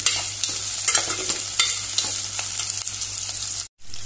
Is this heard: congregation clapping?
no